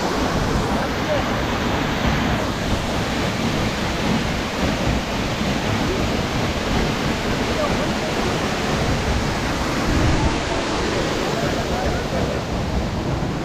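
A waterfall near Gangtok, Sikkim roars as a broad, constant wash of rushing water, loud and close, with no break across the whole stretch.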